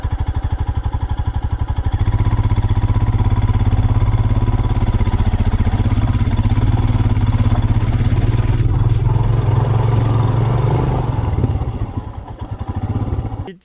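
A motorcycle engine drones steadily and loudly throughout a child's first bike ride, its close, continuous hum rising slightly partway through before easing off at the end.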